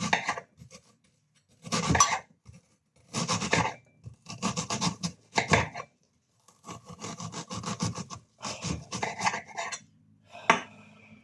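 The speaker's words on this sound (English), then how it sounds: "chop the onion" A knife chops an onion directly on a hard surface with no chopping board, giving repeated crisp bursts of rapid strokes in uneven clusters, close and fairly loud, with short pauses between.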